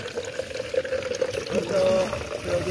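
Water is poured into a glass tumbler in a short, faint trickle that rises slightly in pitch as the glass fills. A voice talks over it.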